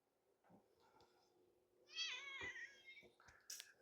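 A house cat meows up close, a drawn-out wavering meow in the middle followed by a shorter high cry, with faint softer vocal sounds before it in an otherwise quiet room.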